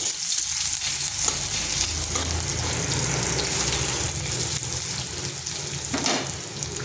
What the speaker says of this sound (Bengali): রসুনটাকে হালকা একটু ভেজে নিচ্ছি